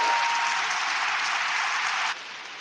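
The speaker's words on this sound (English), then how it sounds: "Give yourself a round of applause." Applause forming a dense, steady hiss-like wash of clapping, abruptly dropping in level near the end.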